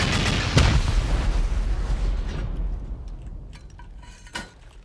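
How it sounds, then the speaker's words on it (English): Volley of rockets slamming into a player-built base wall in an online survival raid game, a loud booming burst up front followed by scattered blasts and a fading rumble with debris clinks. "we'll try to send off 17 rockets here"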